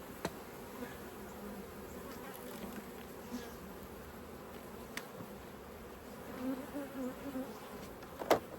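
Honey bees buzzing steadily around a large hive during an inspection, a dense continuous drone near the listener with occasional louder passes of single bees close by, no talking.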